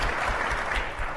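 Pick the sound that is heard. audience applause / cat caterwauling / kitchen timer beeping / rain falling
audience applause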